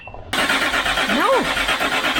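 A Land Rover Discovery engine cranks and catches abruptly, roaring loudly after a short quiet start, with a rising and falling whine in the middle; voices can be heard over the engine.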